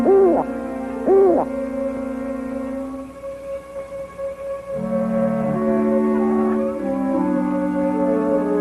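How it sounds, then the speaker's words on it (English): An old owl hoots repeatedly out of doors, a few deep, wavering calls close together at the start, followed by a sustained tonal drone and lower sounds with no talking. "It's only an old hootie owl."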